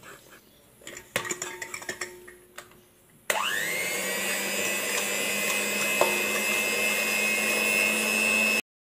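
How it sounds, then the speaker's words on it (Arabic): Electric mixer beating sugar into a white, fluffy cake batter for a kunafa cake, starting abruptly after a few clinks of bowl and utensils and then running as a loud, steady motor whine that holds to the end. "وغنخلطوا هادو مزيان البنات يولينا الخليط ابيض"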